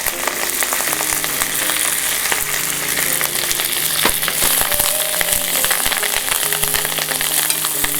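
Mint leaves sizzle loudly in a hot pan for chutney, a dense continuous crackle with scattered sharper pops and stirring scrapes close by, no talking.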